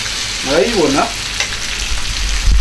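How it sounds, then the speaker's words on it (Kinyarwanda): Côte de boeuf beef steak fries in a pan with a steady close sizzle, and a brief warbling whistle-like tone rises over it early on. "Ngaho reka mbereke rero mundebere inyama yahiye pe,"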